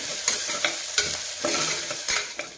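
Ivy gourd stir-frying in a pan, with a steady sizzle under repeated scraping strokes of a spatula, close and moderately loud.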